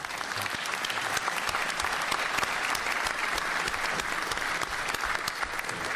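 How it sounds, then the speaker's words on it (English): An audience at a sea, air and space conference panel session applauds steadily and fairly loudly, a dense wash of many hands clapping together without pause for the whole stretch, with no voices standing out. "if you can join me in applause for them"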